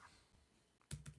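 Typing on a computer keyboard: a couple of short clicky keystroke bursts near the end of a quiet stretch, close and fairly faint.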